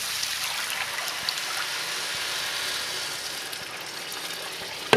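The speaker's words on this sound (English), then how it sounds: "I'll pour in the rest of the water" Water poured steadily into a pot of cooking quinoa, a continuous hissing, trickling wash at moderate level with no talking.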